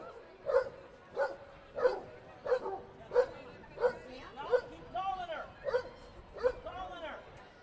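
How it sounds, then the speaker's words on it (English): A dog at a horse racetrack barks in a steady series of about a dozen sharp, evenly spaced yips and barks, close by, with chatter behind. "That is Elvis barking up a storm, ready to go."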